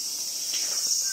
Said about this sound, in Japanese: セミの声がすごく聞こえています。